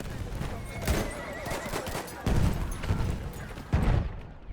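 A horse neighs in the video game Battlefield 1, with several loud whinnies spaced over a few seconds. Thudding hooves and distant gunfire mix underneath.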